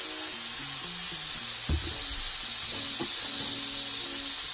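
Squeeze butter sizzles on a hot griddle while a Frisco melt cooks, a steady close hiss with a few soft clunks in the middle and a low tonal hum underneath, no talking.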